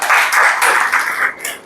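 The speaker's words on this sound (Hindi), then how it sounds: "अपने लिए ताली बजा दे यार" Students in a chemistry class clapping for themselves, a short, close burst of many hands applauding together that fades at the end.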